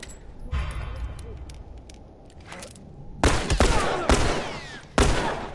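Video game gunfire in The Last of Us: a few scattered shots give way to a burst of loud, sharp, closely spaced gunshots that echo in the second half.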